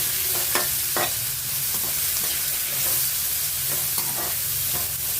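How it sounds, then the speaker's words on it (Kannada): Chopped onions fry in a hot pan while being stirred for a dry ivy gourd stir-fry, giving a steady close sizzle with repeated scraping stir strokes throughout, no voices. "ಒಂದು 2 ಈರುಳ್ಳಿ ಹಾಕ್ತಾ ಇದ್ದೀನಿ ಕಟ್ ಮಾಡಿ. ಚೆನ್ನಾಗಿ ಫ್ರೈ ಆಗಬೇಕು."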